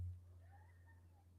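A house cat gives a soft, drawn-out meow, faint and brief, over a steady low electrical hum in a quiet garage studio.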